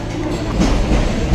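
A train rumbles steadily at a platform of Dadar railway station in Mumbai, a loud continuous roar of wheels and carriages with a brief surge in the middle and near the end.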